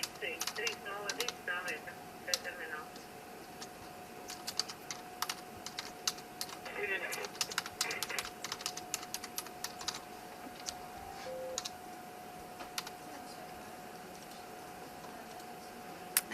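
Keyboard of an airBaltic CS300 cockpit ACARS unit tapped out in short bursts of light clicks, with pauses between keystrokes, under a steady electronic tone with faint talk in the background.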